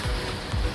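Waves at Playa de Palma beach in Can Pastilla, Mallorca, a brief close rush of surf with two low surging swells washing in, loud against a constant noisy wash, no voices.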